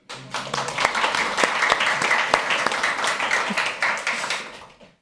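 An audience breaks into applause, rising quickly into dense, close clapping with sharp individual claps and a few faint voices, holding steady before tapering off at the end.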